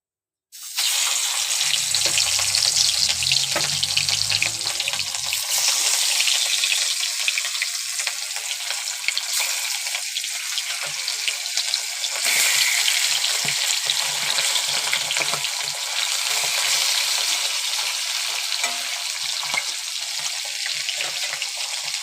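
Fish fries in a smoking-hot kadai, a loud, steady sizzle that flares up as the fish goes in and keeps crackling and spitting continuously throughout, with no talking.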